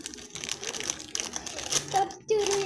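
Sheet of paper crumpled and crushed by hand in short crinkling bursts, close by, with a voice and faint talk around it.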